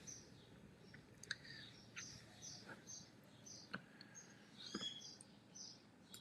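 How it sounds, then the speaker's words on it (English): Birds chirp outside an open window, faint and distant, scattered short tweets and calls over a quiet room hum. "my window's open and I got birds chirping in the background"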